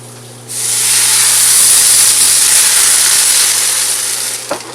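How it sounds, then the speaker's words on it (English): Water poured into a hot pan on a home stove erupts in a loud, sustained steaming hiss that swells quickly, holds for several seconds, then slowly eases, close and dominant. "I'm going to go ahead and put in the water, and it's going to steam up and make big smoke."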